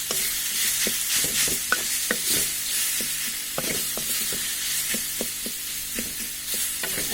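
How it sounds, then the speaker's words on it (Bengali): Mashed wood apple being stirred continuously in a hot pan for pickle, repeated spoon scrapes and knocks in an uneven rhythm over a low sizzle, close and clear, with no one talking. "নাড়াচাড়া করতে হবে অনবরত।"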